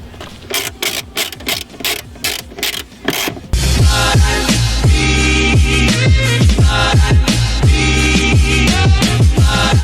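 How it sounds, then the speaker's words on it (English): A mini ratchet clicks in rapid, evenly spaced bursts while tightening taillight nuts, then gives way to a dense, continuous mechanical grinding and whirring that stays loud and close. "Your ratchet, in Derek's case that's mini"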